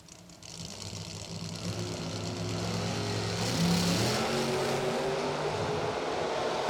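Drag race cars, a white-on-black 1968 Camaro and a 1998 Monte Carlo, rumble at a racing event with engines droning and rising in pitch, a sustained moderately distant roar.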